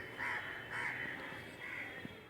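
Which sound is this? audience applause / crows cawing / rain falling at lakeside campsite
crows cawing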